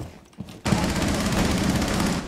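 Rapid automatic gunfire in the shooter game Rainbow Six Siege, a sustained loud burst of shots after a few brief quieter thumps, with no talk over it.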